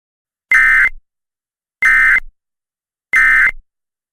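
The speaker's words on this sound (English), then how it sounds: "we have just heard an emergency alert transmission" Three identical loud electronic alert bursts from an Emergency Alert System transmission, each about half a second long and evenly spaced roughly 1.3 seconds apart, with silence in between.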